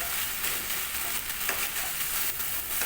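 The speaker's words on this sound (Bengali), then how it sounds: "হাই ফ্লেমে আমি এটাকে এক থেকে দু মিনিট মতো পুরো কষাবো" Green jackfruit and potato pieces frying over a high flame give off a steady, dense sizzle with scraping stirs, close and continuous throughout, with no voices.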